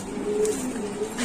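A pigeon taken out of its cage in a bird shop, giving soft, low cooing notes in short repeated phrases, close by, with faint background noise and no talk.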